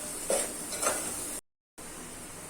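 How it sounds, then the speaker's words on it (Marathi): Masala for a spicy chicken curry is stirred and roasted in oil over a low flame. There is a soft steady hiss with two scraping strokes of the spoon, then a brief dropout to silence before the hiss resumes. "आणि मंद आचेवर तेल सुटेपर्यंत भाजून घ्यायचं. एकसारखं असं हलवत भाजून घ्यायचं."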